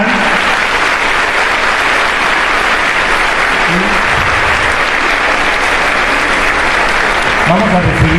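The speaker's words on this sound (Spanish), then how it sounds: "vamos a darle un fuerte aplauso al doctor Francisco de Zacaral" Loud, sustained applause from an audience at a talk on bullying by Doctor Francisco de Zatarain, a dense continuous clatter of clapping with a few voices calling out near the end.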